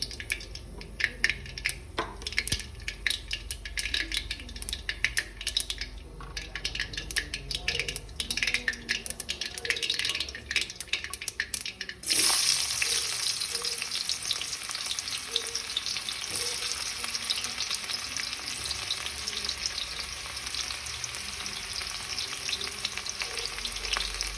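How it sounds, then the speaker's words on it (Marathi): Mustard seeds crackling and popping in hot oil with scattered sharp bursts, then sliced onions tipped in for a toor dal, giving a sudden louder, denser, steady sizzle with occasional stirring, close and without talk. "ही मोहरी आता तडकत आहे। त्यामध्ये आपण आता कांदे टाकून घेऊया कट केलेले।"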